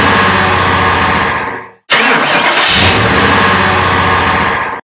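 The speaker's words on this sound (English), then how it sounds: "A, a car engine whirring." Car engine cranking and catching, then running with a loud, steady whirring roar after a brief silent gap, close and alone with no voices.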